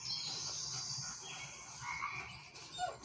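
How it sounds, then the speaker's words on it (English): A frog croaks faintly in the Blair Witch survival video game, a soft repeated croaking over a quiet outdoor ambience. "I hear a frog."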